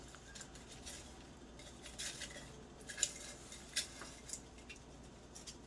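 A utensil stirs bay leaves into a lasagna sauce in a pot, heard as quiet scrapes and a few soft metallic clinks against the rim.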